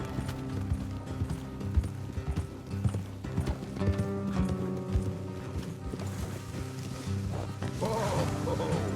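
Horse hooves clip-clop steadily on a road in Red Dead Redemption 2, a continuous rhythmic patter of several riders mixed with musical score and occasional mechanical rattles.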